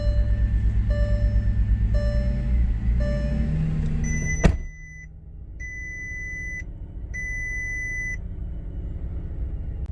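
A salvaged Bentley Flying Spur with fuel system problems runs with a loud low engine rumble while regular chimes beep; after a sharp click the engine drops to a quieter steady idle under repeated warning tones.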